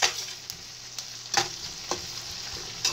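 Garlic sizzles in a pan with onions for stir-fried rice, a steady close frying hiss broken by several sharp scraping stirs at irregular intervals, with no talk.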